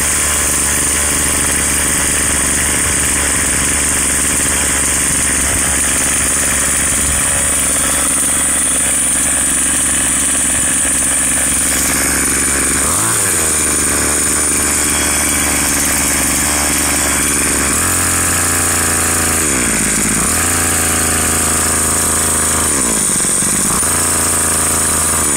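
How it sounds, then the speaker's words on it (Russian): Gasoline string trimmer, just started after winter without its starter, runs loud and close with a steady buzzing drone that shifts in pitch as the throttle changes, heard alone. "Вот, триммер завелся"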